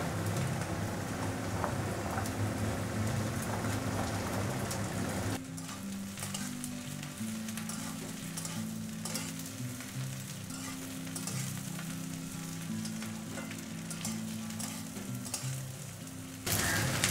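Taro stolons sizzle in hot oil with lightly fried onion and are stirred in a pan. The crackling fry is steady and close, and scraping stirs break through it. A louder burst of sizzling comes near the start and again at the end.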